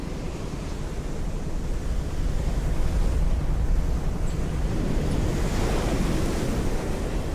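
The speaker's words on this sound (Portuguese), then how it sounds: "Um bolsão isolado de ondas brancas crestadas" Ocean waves churn in an isolated pocket of whitecaps within a strait, a constant broadband roar of surf mixed with wind buffeting, steady and loud throughout with no voices.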